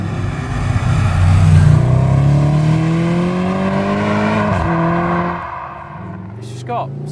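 Mercedes SLS AMG Roadster V8 revving loudly under hard acceleration, its deep exhaust note climbing through the gears before a shift and easing off, heard up close with a voice talking over it.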